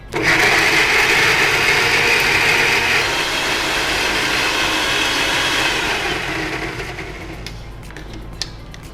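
A kitchen mixer grinds ingredients for cashew chicken into a fine paste, a loud steady whirring motor that runs continuously, then winds down toward the end.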